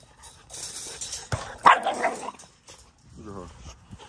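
Several small Blue XL Pitbull pups bark and yip in quick, excited bursts close by, with a voice talking around them.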